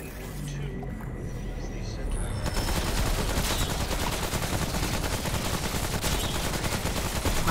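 Gunfire in the video game Remnant: From the Ashes, a quiet opening that gives way to sustained rapid shots and bursts, loud and continuous, with players talking over the shooting.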